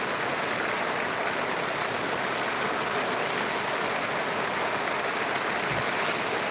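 Rainwater pools and flows across a flooded farm field, a steady broadband rushing wash of water, constant and unbroken at moderate distance.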